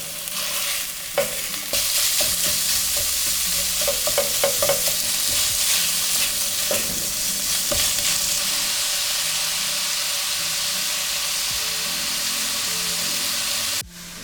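Meat frying in olive oil for chili sizzles steadily in a pan while a utensil scrapes and stirs it in scattered strokes early on, a close, continuous hiss with no talking.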